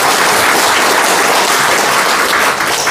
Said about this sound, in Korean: 그거 박수 한번 주세요.